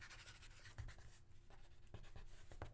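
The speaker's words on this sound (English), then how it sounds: "kind of scuff it up with some random marks" A pencil scuffs quick random marks across a blank sheet of paper, a close, soft scratching with short strokes and light taps, heard alone without talk.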